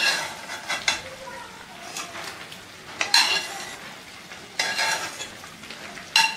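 Sautéed paneer is stirred into vegetable pulao rice with a metal spoon. Close, repeated scraping and clattering strokes come in several bursts, with a light sizzle underneath.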